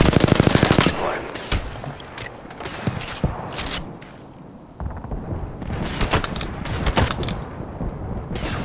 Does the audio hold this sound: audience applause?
no